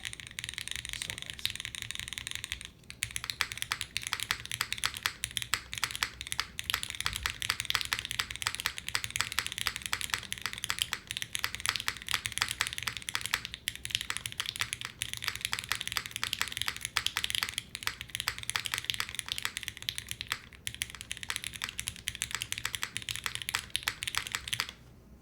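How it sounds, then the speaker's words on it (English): Continuous fast typing on a Sonnet custom mechanical keyboard produces dense, crisp clacks and taps that go on steadily for the whole stretch, recorded close and loud. "I'm just typing random things somewhere."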